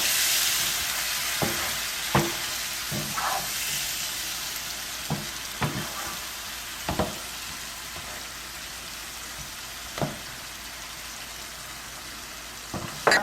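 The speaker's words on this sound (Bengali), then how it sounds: "একটু জল দিয়ে দিই, মশলাগুলো যাতে পুড়ে না যায়, এই জন্য একটু জল দিচ্ছি।" Spices sizzling and frying in a pan after a little water is added, a steady bright hiss with occasional sharper pops and stirring scrapes, close and continuous with no talking, while cooking dum aloo.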